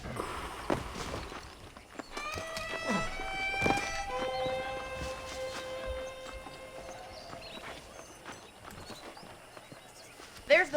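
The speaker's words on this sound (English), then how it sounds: "The horses are saddled up over here." Saddled horses in the Western game Red Dead Redemption clip-clop at a walk, hooves tapping in an uneven rhythm at moderate distance, joined by a neigh and a sustained musical tone, with speech in places.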